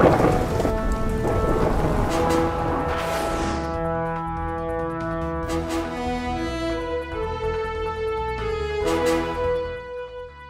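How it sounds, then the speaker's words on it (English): A thunderstorm near a tornado touchdown around Davis, California, with heavy steady rain hissing and deep thunder rumbling and cracking, set against a sustained tonal backdrop. "The area experienced a tornado touchdown, pounding hail and record low morning temperatures."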